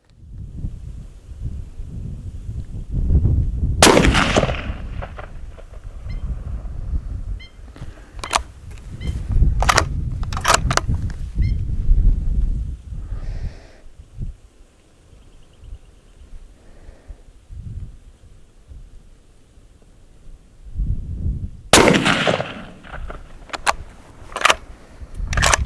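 Rifle shots fired from a BOG DeathGrip tripod in the field, picking off rocks on a hillside: a few sharp, loud cracks spaced seconds apart, with quieter handling noise and gaps between them.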